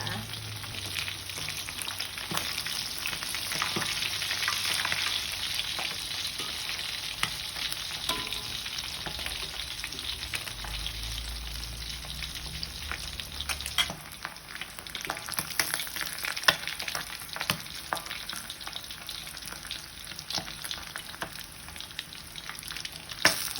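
Fish frying in hot oil in a pan, a steady sizzling hiss with scattered pops and occasional soft scraping, no talking.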